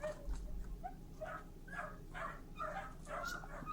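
A pack of many dogs barks, yips and whimpers close by in repeated overlapping bursts, with the calls rising and falling against a low steady background hum.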